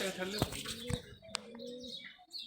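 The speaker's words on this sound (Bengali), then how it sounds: "এটা ঘনবাজির কবুতর" A Bangladeshi rolling pigeon coos in soft, low, wavering tones, close by, while a person talks over it.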